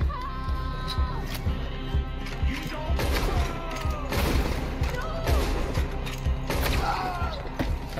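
Gunfire and mechanical clanks in the video game Red Dead Redemption 2 come as sharp repeated shots with metallic ratcheting among them, while a loud game soundtrack and effects play underneath.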